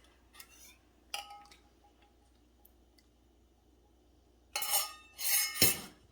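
Eggs are mixed into crab meat dip in a bowl: a few light utensil taps and clinks, then near the end a couple of louder wet stirring scrapes against the bowl, without talk.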